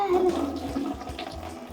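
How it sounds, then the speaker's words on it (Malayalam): Water is poured over a small child at bath time, a short close splash and trickle that tapers off within a couple of seconds. "ഈ വെള്ളം ഒഴിക്കട്ടെ?"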